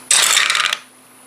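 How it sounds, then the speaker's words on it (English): Three dice for a board game rattle and clatter together in one quick burst that lasts under a second. It is loud and close, then stops with no voices. "So we'll roll all 3 dice, same routine as always."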